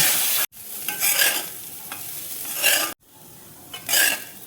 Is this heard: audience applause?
no